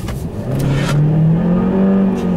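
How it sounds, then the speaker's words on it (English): A small front-wheel-drive convertible accelerating hard with wheel spin, its engine note rising loudly and steadily close by, with no talk over it. "I'm going to leave you with an acceleration, which will probably have lots of wheel spin involved in this little front wheel drive thing here"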